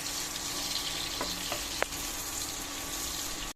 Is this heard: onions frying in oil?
yes